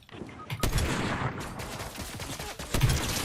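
Gunfire in the Fortnite video game, including sniper shots, with sharp cracks at about 0.6 and 2.8 seconds over dense, continuous game noise. The reports are loud and close, with faint talk underneath.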